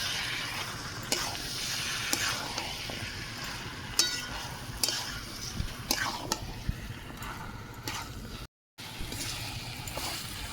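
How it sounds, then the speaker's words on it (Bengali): Boiled chickpeas and potatoes sautéing in spiced oil, a continuous soft sizzle broken by repeated scraping stirs of a spoon against the pan, close and fairly quiet. "আলু আর ছোলা কষানো হয়ে গেছে"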